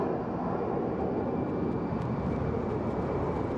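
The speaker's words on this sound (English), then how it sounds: "As we watch this Boeing 737 take off." A Boeing 737 takes off from Sky Harbor Airport, its jet engines producing a loud, steady, broadband roar that stays constant throughout.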